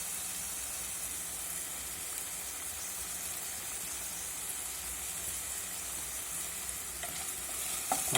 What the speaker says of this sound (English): So let's slowly saute all my vegetables